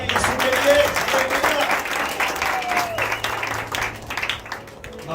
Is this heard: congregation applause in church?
yes